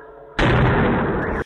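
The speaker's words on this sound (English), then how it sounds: "the sound of this explosion that was strong enough to set off car alarms" A powerful explosion, strong enough to set off car alarms, cuts in abruptly after a quiet moment and roars loud and sustained for about a second before dropping away.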